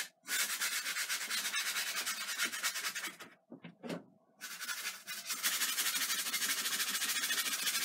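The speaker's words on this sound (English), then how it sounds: "We're just using a large flat brush to scrub this in." A large flat bristle brush scrubs paint onto canvas in a steady, close, rhythmic scratching rasp, pausing briefly midway with a few taps before resuming continuous strokes.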